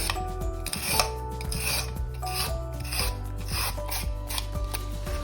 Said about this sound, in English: so that's about one large carrot or two small carrots grated